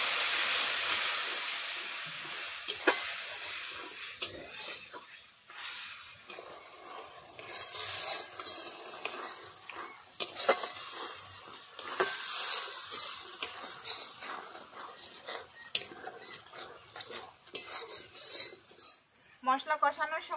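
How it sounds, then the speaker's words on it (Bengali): Spice paste with torn green chillies is stir-fried with a splash of water for a rustic snakehead fish curry, rough scraping and rasping strokes with bursts of hissing steam that rise and fall unevenly, close and alone. "মশলা যাতে পুড়ে না যায় তার জন্য সামান্য একটু জল দিয়ে ভালোভাবে মশলা কষিয়ে নেব।"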